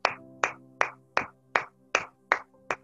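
Eight sharp, evenly spaced claps with ringing tails at a children's church program, a slow rhythmic clapping rather than a dense crowd, moderately quiet and clean.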